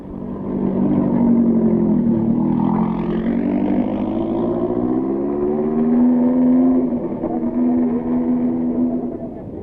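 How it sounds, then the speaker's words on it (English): An Alpine rally car at the 1971 Rally de Portugal pulls away from the start, its engine note rising and shifting pitch as it revs through the gears. It stays loud and continuous the whole way. "Checking out of the start is Frenchman Neve in his Alpine"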